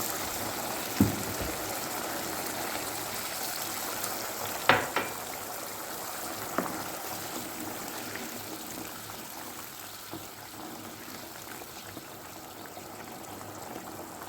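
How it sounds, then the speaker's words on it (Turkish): Hot water pours steadily into a pot onto toasted rice and orzo, with a soft, continuous gushing and bubbling, punctuated by a few faint clinks. "Su bardağı sıcak suyu kavrulan pirinç ve şehriyenin üzerine ekleyelim."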